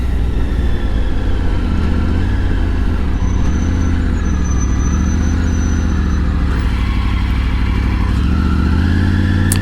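Triumph Tiger Triple motorcycle cruising along a highway near Lake Coeur d'Alene, Idaho, its loud, steady engine drone heard up close with rushing wind and slight shifts in revs, no talking.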